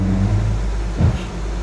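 A Ford Ranger truck with a freshly installed transmission moves under its own power, giving a close, steady low engine drone with a short swell of rising revs.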